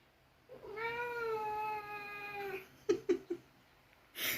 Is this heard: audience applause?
no